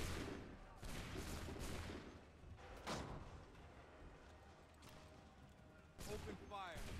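A musket volley fired on command in Assassin's Creed III: several loud, booming gunshot bursts crack out in uneven succession over a noisy battlefield, with voices shouting in between.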